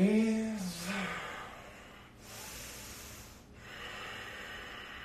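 A yoga practitioner breathes through a reverse triangle and side angle pose in a heart-opening flow: a sharp nasal inhale at the start, then two long, soft, airy breaths, close and fairly quiet, with no talking.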